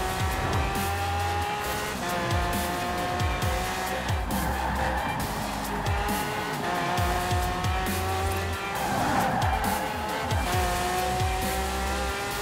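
A Lamborghini Aventador driven at high speed in Forza Horizon 4, its engine roaring loud and unbroken throughout with repeated tire squeals and skids layered over it, and no talking.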